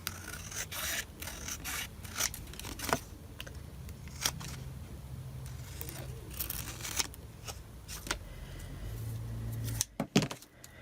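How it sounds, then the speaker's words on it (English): Scissors trim paper for a handmade journal, with repeated close snips and rustling paper handling, quiet and irregular. "now I will trim that."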